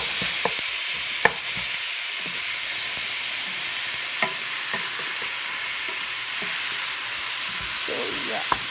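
A pot of spaghetti boiling on a stove gives a steady, moderately loud bubbling hiss with a few faint clinks, continuous and close, with no voices.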